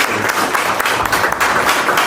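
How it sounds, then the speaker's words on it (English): Applause from an audience at a Senegalese diaspora launch event in New York, a dense, steady round of clapping that fills the room and holds at an even, loud level throughout. "So I want, again, everybody to give Moussa a round of applause."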